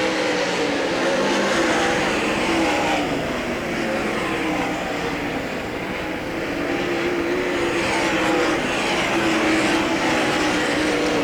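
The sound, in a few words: race cars at Hagerstown Speedway coming off turn 4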